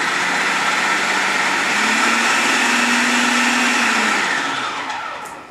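Steady, loud whirring roar of a blender chopping cilantro for chipotle salsa, running continuously with a slight pitch shift as the load changes, then winding down at the end.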